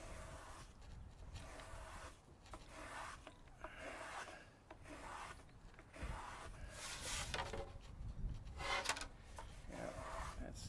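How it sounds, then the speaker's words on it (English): A rasp works bevels into a wooden guitar back brace to round its shape, giving a steady, continuous scraping rasp with uneven strokes throughout, close and moderately loud with no voices. "Now I'm going to start doing more bevels on there to get it more round here."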